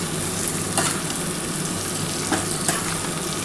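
Bitter gourd fries in a pan for a spice-free chorchori, a continuous crackling sizzle with a few brief stirring scrapes rising out of it.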